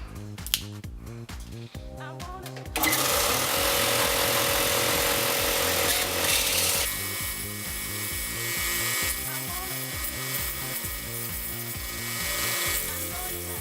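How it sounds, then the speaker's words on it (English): A belt sander shapes and smooths a wooden chopstick into a wand. After a few seconds of quieter rhythmic sound, it starts a loud, continuous abrasive whir that runs steadily to the end over an underlying rhythmic beat. "I want to try sand it on the belt sander and see if I can get a nicer finish and shape"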